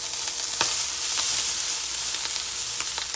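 Bacon, Spam, cabbage, onion and ramen noodles fry in a pan with a constant close sizzle, broken by a few sharp crackles and pops.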